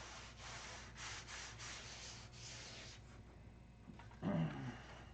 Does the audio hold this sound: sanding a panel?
yes